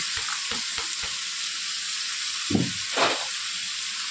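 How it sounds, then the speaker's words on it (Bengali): Papaya, potato and cauliflower go into a pan of spices frying for a lentil curry. A steady sizzle carries a few light taps, then two louder whooshing bursts of frying as the vegetables hit the pan. "এখন আমি সবজিটা দিয়ে দিব।"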